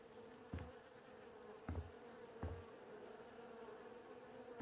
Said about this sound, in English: Why can I hear buzzing being close to here?